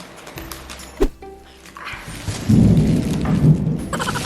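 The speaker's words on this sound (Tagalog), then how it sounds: "Kulog yan." Thunder heard from indoors in a home kitchen during a summer storm, rising into a loud, low rolling rumble in the second half after a brief sharp knock, with no talking.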